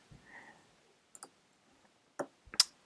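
A computer mouse clicking several times while selecting items in evaluation software, sharp isolated clicks spaced irregularly with a faint rustle early on and quiet gaps between.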